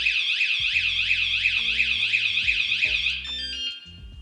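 An electronic scooter anti-theft alarm blares loudly and nearby, a continuous warbling siren-like tone over lower clunking beeps, then cutting back as it is unlocked.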